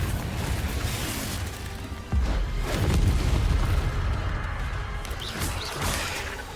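Confringo fire-blast spell explosion in the Hogwarts Legacy video game, a heavy booming blast with crackling burst that swells sharply and rumbles on loudly through the whole stretch.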